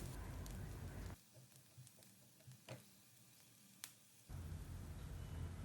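Chopped garlic and onions sauté in hot oil over a medium flame, making a faint, even sizzle that drops to a quieter lull midway before picking up again.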